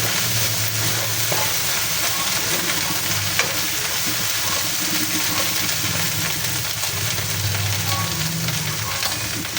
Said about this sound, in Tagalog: Halo-halo lang po para hindi masunog at manikit.